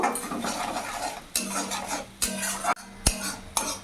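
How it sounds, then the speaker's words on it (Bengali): Spice paste with Kashmiri chili powder sautéed in a pan, stirred with a metal spoon, giving repeated scraping strokes and sharp clinks against the pan over a faint sizzle, close and without speech. "মশলাটা ভালো করে একটু কষিয়ে নেব"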